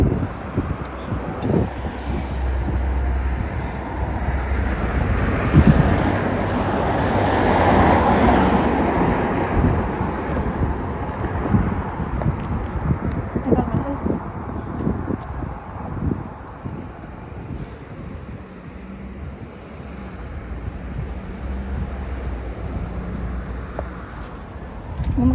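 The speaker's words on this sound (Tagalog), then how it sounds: "Malakas pa yung hangin dito banda, yung malapit sa dagat" Strong wind by the sea buffeting the microphone, a steady broadband roar rising and falling in gusts over about twenty-five seconds, with no talking.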